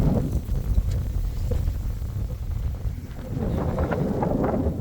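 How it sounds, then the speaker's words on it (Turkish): Steady, strong wind at a beekeeping site buffeting the microphone with a low rumbling roar that stays fairly constant throughout, no clear voices. "şimdi burada günlerdir süren böyle bir rüzgar var."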